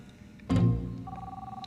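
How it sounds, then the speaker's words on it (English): A cell phone ringtone cuts in abruptly and loud, a short electronic ring burst that rings on with a steady tone to the end, heard alone with no talk. "Somebody's calling Harmon on his cell phone."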